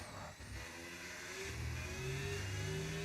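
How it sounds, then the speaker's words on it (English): A Lamborghini in a racing video game, its engine climbing in pitch as it revs and accelerates down a straight, steady and moderately faint with a rising whine and no talk. "Revving his car up here, approaching the final line."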